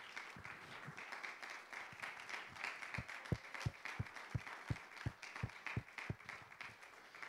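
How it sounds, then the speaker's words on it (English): Church congregation clapping in praise, a soft wash of applause with a steady rhythmic beat of hand claps or stomps emerging midway, fairly faint and distant. "Give the Lord another hand clap of praise."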